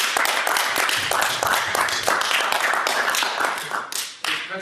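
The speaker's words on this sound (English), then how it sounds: "Have a nice round of applause" An audience at a trade college presentation claps for a guest speaker, a loud close round of crisp individual hand claps that keeps going and trails off near the end.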